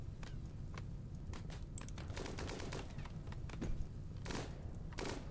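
Gunfire in a RimWorld colony battle, with rapid, uneven bursts of sharp cracks and pops that sound distant and quite faint, spread over a constant background rumble.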